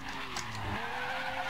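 Car driven recklessly in the video game Garry's Mod, with a steady engine and tyre noise and a short skid partway through, moderately loud and continuous, with no talk.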